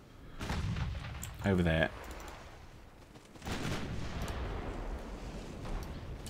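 Warship main guns, 9-inch, fire in a naval strategy game: a heavy boom, a brief sharp crack, then a second rumbling blast with a long decaying tail, while someone speaks briefly.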